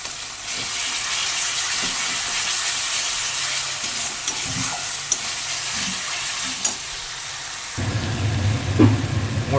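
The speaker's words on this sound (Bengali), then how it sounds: "মশলাটাকে আমি সুন্দর করে কষে নিয়েছি বন্ধুরা" Salted spice paste for egg curry frying in a pan while it is stirred. An even, close sizzle carries occasional scraping strokes and grows louder and fuller near the end.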